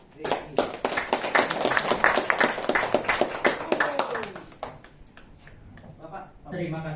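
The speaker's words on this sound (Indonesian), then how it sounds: "Mari sambut dengan tepuk tangan yang meriah Bapak Angga." An audience at a company presentation gives a brief burst of clapping to welcome a speaker. The clapping peaks early, dies away after about four seconds, and is followed by a voice speaking.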